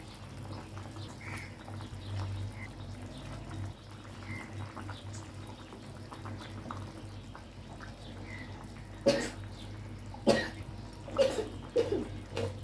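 Pieces of hilsa fish are laid one by one into a pan of simmering curry with potato and brinjal, making soft bubbling and several brief splattering sizzles and clatters near the end, with quiet background noise.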